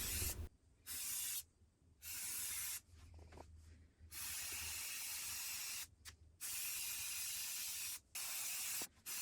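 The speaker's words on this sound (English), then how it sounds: "I spray painted the trims with black paint." Black spray paint hissing from an aerosol can onto trim pieces, delivered in repeated loud bursts of several seconds each with short silent gaps between.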